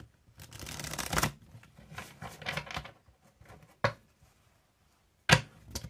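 A deck of cards being shuffled close by, with a long riffle burst, a few shorter riffles, then two sharp single snaps of cards squared against each other, with quiet gaps between and no speech.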